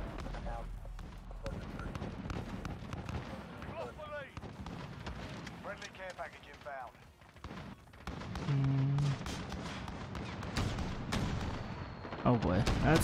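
Tank firing in Call of Duty Modern Warfare: heavy booming blasts and gunfire over a constant din of game combat, with a player talking over most of it.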